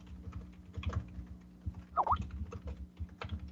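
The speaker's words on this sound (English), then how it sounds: "I hear him typing." Keyboard typing comes through a call connection as faint, irregular clicks under low line noise, with a brief tonal blip partway through.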